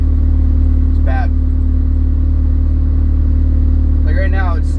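A rebuilt Nissan KA24DET engine idles with a steady low drone throughout, the brake booster failing and leaning out the mixture; someone talks briefly over it twice.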